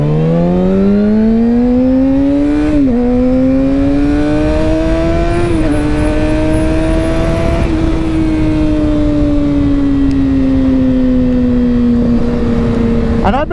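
Kawasaki ZX6R 636 (2022 KRT) sport motorcycle engine revving steadily as it rides, a loud continuous whine rising in pitch through gear changes with brief dips at each shift, heavy wind rush beneath.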